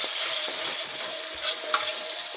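Spice paste for red-cooked squid sizzling steadily in hot oil in a pan, with occasional scraping stirs of a utensil, close and continuous without talk.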